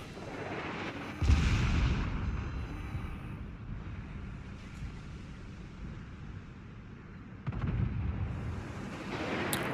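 Sailing-ship cannons fire a broadside in a naval sailing game, with heavy booming blasts at about one and eight seconds over a low, rumbling wind and water bed.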